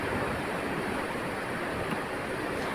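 Steady, broad rushing water of a flooded river after cloudburst-like rain roars without pause, a dense continuous torrent heard close by, at the foot of Rangana Fort in Narur village, Kudal.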